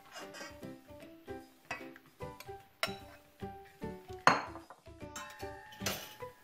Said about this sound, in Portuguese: Vou então agora retirar as peras com a ajuda de uma escumadeira. Retirá-las com cuidado para um recipiente.